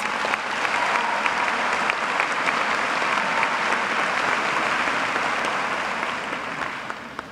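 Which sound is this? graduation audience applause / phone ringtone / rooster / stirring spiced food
graduation audience applause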